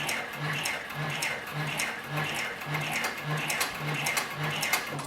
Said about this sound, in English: We'll turn the material 90 degrees and then continue sewing.